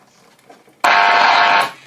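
A 1952 HMV Nippergram radio comes on abruptly after near silence with a loud burst of steady broadband static-like sound, holding for under a second before fading down.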